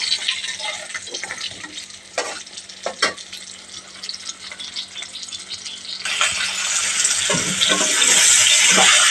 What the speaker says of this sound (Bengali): আলু কষাইতেছি, আলু ভাজিয়া লইতেছি।